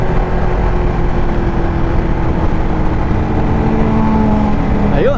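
A Ducati Panigale V2 sport motorcycle runs close and loud on a first ride, its engine holding a steady drone and then swelling into a quick rev at the end.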